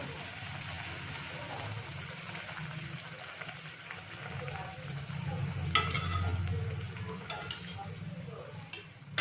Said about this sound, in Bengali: আমি লুচিটা ভেজে নিই তেলটা আমার গরম হয়ে গেছে